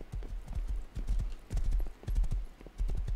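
Horse hooves clip-clop steadily in a video game, a quick rhythmic run of hard knocks moving along at close range, with players chatting faintly over the top.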